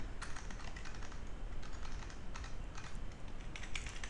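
Rapid, continuous tapping of computer keyboard keys at close range, with uneven bursts of keystrokes and no talking.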